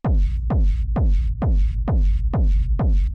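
Industrial techno kick drum shaped by an EQ Eight equaliser: seven loud, steady booming thumps roughly half a second apart, each with a falling low tone and a hissy tail, playing alone without talk.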